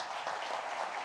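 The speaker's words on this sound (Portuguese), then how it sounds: "Aplausos a Cristo." Church congregation applauding during a Sunday celebration service, a steady, dense wash of many hands clapping throughout, moderately loud and continuous with no voices breaking through.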